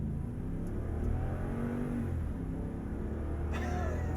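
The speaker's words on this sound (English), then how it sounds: "Let's do some acceleration." A 2021 Toyota Land Cruiser's naturally aspirated V8 accelerates from inside the cabin, a steady, loud engine rumble that builds continuously without a break, with the air conditioning whirring beneath it.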